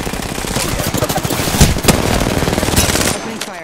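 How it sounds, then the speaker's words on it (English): Automatic gunfire in the video game Apex Legends, with rapid loud bursts of shots rattling continuously across the clip and a couple of heavier impacts midway before the firing cuts off near the end. "Opening fire."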